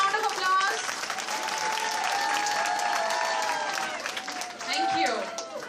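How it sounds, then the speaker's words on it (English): A crowd applauds at a lively hospital cultural program, steady clapping throughout with cheering and other voices and tonal sounds over it, swelling again near the end. "Louder please, louder round of applause."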